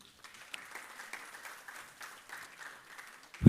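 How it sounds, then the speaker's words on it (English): Audience applause at a National Science Day award ceremony in Bengaluru, honouring students; a steady, fairly soft patter of many clapping hands that continues throughout and swells briefly at the very end. "Let us have a big round of applause once again,"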